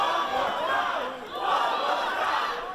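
A wrestling arena crowd roars and cheers in Wrestling Evolution Aggression, a dense, loud, continuous wash of yelling voices that swells and dips slightly, with no clear individual speech.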